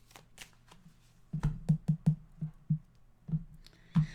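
A tarot deck is shuffled close by: a quick run of soft papery slaps and taps, about a dozen in an uneven rhythm, against a quiet room.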